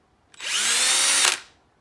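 A power drill fitted with a straight bit runs for about a second, a steady high whine that spins up quickly and then cuts off, close and alone with no talk.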